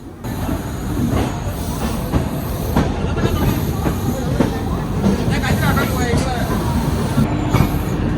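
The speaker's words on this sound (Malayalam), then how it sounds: "അത് ഈ LTTന്ന് ഷാലിമാർക്ക് പോകുന്ന ഒരു എക്സ്പ്രസ് ആണ്." An LTT to Shalimar express train rolls past close by, loud and continuous, with rhythmic wheel clatter and occasional squeals, while voices talk faintly underneath.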